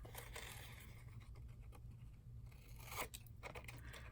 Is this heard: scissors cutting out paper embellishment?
yes